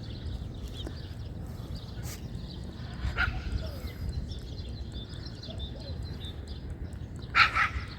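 A dog barks a few times in the distance at Langeron beach in Odesa at sunrise, short faint outbursts over a steady outdoor background rumble.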